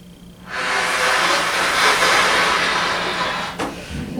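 A beginner's failed attempt to blow a trumpet yields only a breathy, airy hiss with no pitched tone, lasting a few seconds after a short quiet start.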